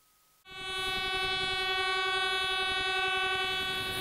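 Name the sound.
horn and wheel clatter of a passing ore freight train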